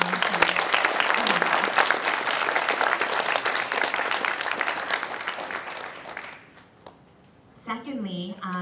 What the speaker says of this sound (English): So can I get a quick round of applause for all of our volunteers?